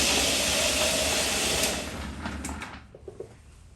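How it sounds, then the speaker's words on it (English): A Raytech TV-5 vibratory rock tumbler runs with a steady, loud broadband hiss and rumble, then drops sharply in level partway through, leaving a quieter hum broken by a few faint clicks. "That's with one of each running. The vibratory is significantly louder."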